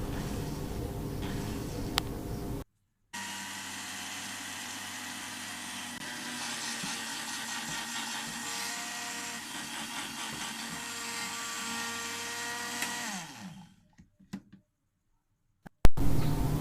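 An electric grinder grinds spices for chaat masala. Its motor gives a loud, steady whir for about ten seconds, then spins down, and a few clicks and a thump follow.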